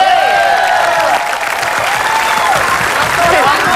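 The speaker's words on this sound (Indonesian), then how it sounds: "Tepuk tangan sekali lagi." A studio audience at an Indonesian television show claps in a loud, steady burst for several seconds, with sliding musical tones ringing over the applause.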